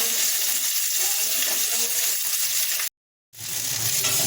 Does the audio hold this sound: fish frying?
yes